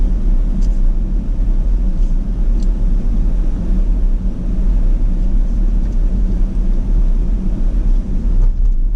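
A rental car cruises along the E65 coastal road from Kotor toward Perast in Montenegro, a steady low road rumble and engine drone held at an even level throughout, with faint tire and wind hiss above it.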